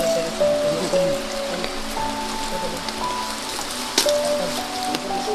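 Heavy rain pours steadily onto a surface, a dense continuous hiss with droplets drumming close by, while faint tonal hums and an occasional sharp tap sit beneath the downpour.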